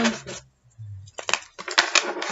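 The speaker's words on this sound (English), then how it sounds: "I'll do one last shuffle." A Cosmic Tarot card deck is shuffled at close range in short papery bursts of riffling and snapping, separated by a brief quiet gap.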